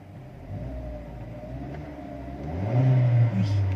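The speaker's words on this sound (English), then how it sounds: "let's rev the engine with the doors closed." A 2018 Kia Picanto 1.2 EX petrol engine revved from inside the cabin with the doors closed, a muffled low hum that swells into a steady, rising drone near the end.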